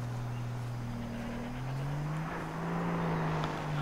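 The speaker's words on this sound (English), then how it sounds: "Oh, I hear another car." A steady car engine in Far Cry 3 drones at a constant hum, its pitch rising slightly partway through, sounding synthetic and looped like a game vehicle.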